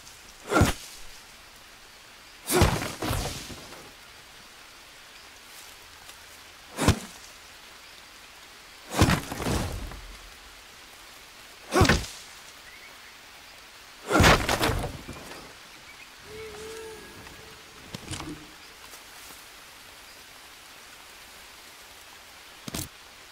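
Rain falls steadily in the Green Hell jungle game, a soft constant hiss broken by several loud, sharp thumps and rumbling bursts spaced every few seconds, with no talking.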